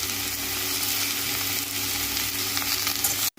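Pepper and spices roast in a hot pan, giving a loud, steady sizzling crackle with scattered pops that cuts off abruptly at the end, with no talking.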